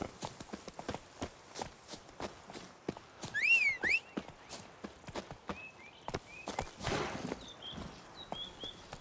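Horse hooves clip-clop on a road in The Witcher 3: Blood and Wine, a quiet run of sharp irregular hoofbeats with brief whinny-like tones and a few faint chirps in between.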